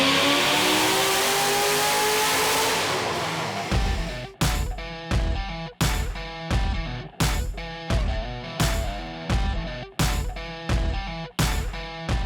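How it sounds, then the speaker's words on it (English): A 2008 Shelby GT500 roars at full throttle on a chassis dyno during a baseline pull, one long loud sustained scream, then a run of sharp rhythmic pops and bangs as the engine comes off the rollers. "we'll get this thing on the rollers, establish a baseline pull"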